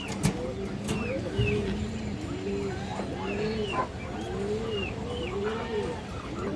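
Large racing pigeons coo again and again in rolling, rising-and-falling calls at moderate distance, overlapping one another, with a few sharp clicks and some faint background noise.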